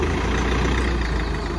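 A tractor engine rumbles steadily while it pulls a stuck vehicle free, a loud, continuous low drone close by with no speech over it.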